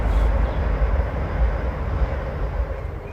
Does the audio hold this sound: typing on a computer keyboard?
no